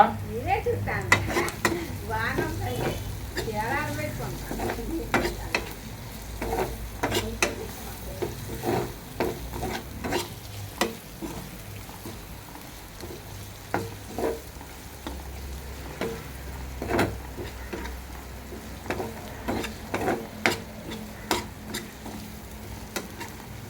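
Prawns stir-fried in a pan: a steady sizzle runs throughout, with frequent scraping and clinking of a spoon against the pan as the seafood is tossed, heard close and continuous.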